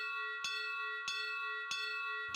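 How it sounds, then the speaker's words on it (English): A bright metallic bell tolls three times in even succession, each strike ringing out with a long sustained shimmer, in the video game Tales of Vesperia. "Oh, the bell tolls."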